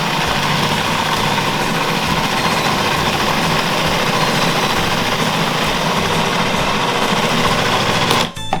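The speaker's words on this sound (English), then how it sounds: "I'm going to scrape it around and I'm going to blend it some more" A kitchen blender runs continuously at full power, whirring loud and steady as it blends uncooked yogurt cereal, the motor hum holding level until it cuts off near the end.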